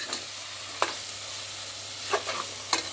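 Chicken pulao masala stirred in a pot: a soft, steady sizzle underneath, broken by about four distinct scraping spoon strokes spaced unevenly, close and clear with no talking.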